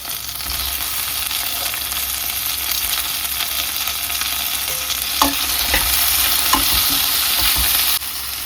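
Chicken masala with chillies and tomatoes frying in a pan gives a loud, continuous sizzle with stirring, plus a couple of sharper clinks of utensil on metal partway through.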